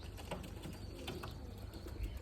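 Pigeons flap their wings as they take off and fly, with faint soft fluttering and occasional coos against a low outdoor background rumble.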